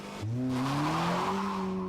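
A Honda Civic HFP's engine pulls hard under full throttle, its revs climbing steadily in a rising drone from a quick start and holding loud and close to the end.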